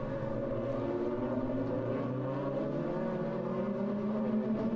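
DTM touring race cars lap Donington Park during a 2002 race, engines screaming loud and steady with rising and falling revs as several cars run together, a sustained multi-engine roar without speech.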